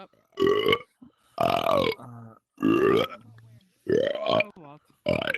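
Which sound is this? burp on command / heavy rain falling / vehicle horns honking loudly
burp on command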